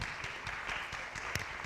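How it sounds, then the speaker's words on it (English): Steady applause from an audience at a university panel discussion, a dense, even wash of clapping that stays fairly quiet and distant throughout. "A round of applause."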